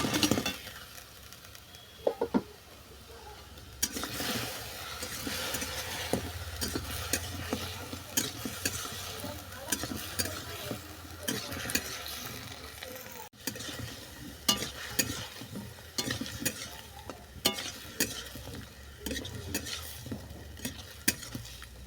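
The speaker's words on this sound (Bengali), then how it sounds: "সমস্ত উপকরণের সঙ্গে ব্রেড বড়াটাকে ভালো করে মিশিয়ে নিলাম" A spoon stirs bread bara with tomato ketchup and other ingredients in a pan, with steady scraping and mixing over a constant frying sizzle that carries on throughout, with no voices.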